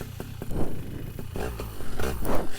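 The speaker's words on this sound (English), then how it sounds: "Maybe my motor's idling low." A paramotor engine runs low and uneven in summer heat, its motor rumble rising and falling with irregular surges and clattering bursts, close and fairly loud.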